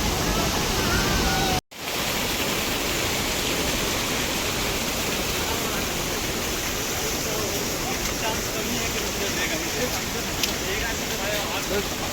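A rain-swollen river rushes through the Kedar valley near Kedarnath after heavy rainfall, a loud, unbroken roar of churning water that cuts out for a moment early on and then carries on steadily.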